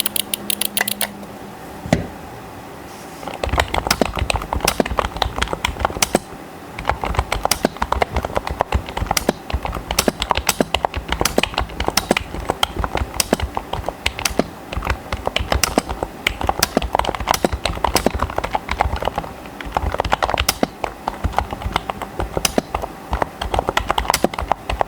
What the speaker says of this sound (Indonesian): kalau mau typing testnya kayak gini